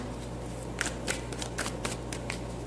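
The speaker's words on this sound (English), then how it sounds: "I already shuffled your cards, Sagittarius, but I'm going to shuffle a bit more here" Tarot cards riffle and flap in several quick bursts, fairly close but soft, over a low steady room hum, with no talking.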